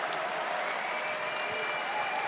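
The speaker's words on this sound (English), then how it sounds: "Please make some noise for Roger from 9Pandas." Crowd at a Dota 2 esports tournament, the ESL One Berlin Major 2023, applauding and cheering in a large venue, a steady dense wash of clapping with no break.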